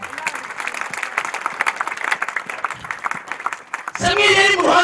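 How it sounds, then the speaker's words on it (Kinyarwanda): A church congregation at an ADEPR service claps in a dense, uneven patter for about four seconds before a voice cuts in loudly at the end. "Dukomere Imana amashyi cyane"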